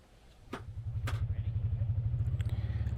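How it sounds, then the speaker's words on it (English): An ATV engine idles and revs steadily with a pulsing low rumble, starting a ride up Forest Road 253; a couple of brief clicks ring out early on. "It's time for an ATV ride up Forest Road 253."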